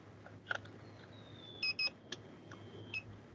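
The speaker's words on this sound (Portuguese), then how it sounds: "quando eu pluguei o testador, ele já acendeu o LED e já ligou minha fonte e está bipando" PC power supply tester beeping after being plugged into a power supply's 24-pin connector, several short, faint electronic beeps at uneven intervals over a quiet hum, with no talk.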